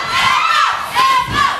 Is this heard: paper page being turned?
no